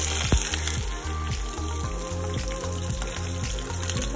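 Onion added to two tablespoons of hot oil over lowered flame sizzles and fries, a steady close crackle with a soft bubbling hiss and no talk.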